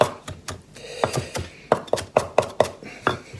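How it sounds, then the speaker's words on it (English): Fresh farmer's-market parsley being chopped fine with a knife on a board, a run of crisp, close, fairly regular chopping strokes that quicken toward the end, with no talk. "we are going to just chop this up fairly fine"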